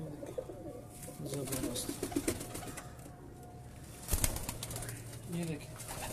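Pigeons at a breeder's loft in inner Lahore coo softly while wings flap in short bursts, including a sharper flurry partway through, with people talking quietly nearby.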